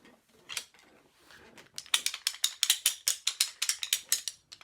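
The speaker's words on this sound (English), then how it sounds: "It's called a rattle. A rattle. It's made of wood, and it's got some other bits of wood, and they hit each other." Wooden rattle shaken in a series of quick, sharp clattering bursts, starting softly then growing into loud, rhythmic knocking of wooden pieces striking each other, heard close up with no talk.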